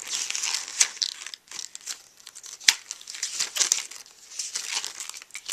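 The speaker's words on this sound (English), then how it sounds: "Let me flip that to page 60 so you can see what it looks like." Paper pages of a Cricut cartridge book are flipped and handled nearby, giving soft continuous crinkling and rustling with a few sharper crisp snaps, no talking.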